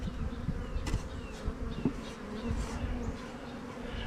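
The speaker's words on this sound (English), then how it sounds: "This is a swarm and it's got cells in it." Dense, steady buzzing of a honey bee swarm close by, a continuous droning hum with occasional louder passes of individual bees.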